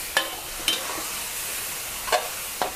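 Instant noodles with shrimp and sauce are stir-fried with holy basil over high heat, producing a constant close sizzle broken by a few sharp clinks of the spatula against the pan.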